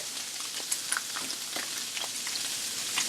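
Italian sausage frying in a pan, a constant close sizzle with small pops and spits scattered through it.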